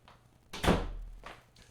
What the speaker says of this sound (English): let me shut the office door